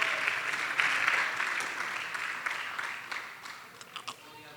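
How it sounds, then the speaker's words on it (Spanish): A church congregation claps together in sustained, fairly loud applause that gradually thins and fades over a few seconds. "Denle un aplauso al Señor,"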